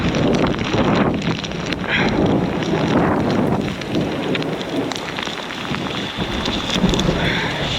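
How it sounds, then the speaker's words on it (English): Rain and gusting wind sweep in outdoors beside a river, with dense, loud pattering on surfaces and rough wind buffeting the microphone throughout, no one speaking. "Here comes the rain."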